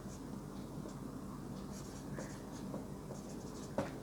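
Pen scratching faintly across paper as an English question-tag answer is written out, soft and continuous under a low steady background hum, ending with a single small tap.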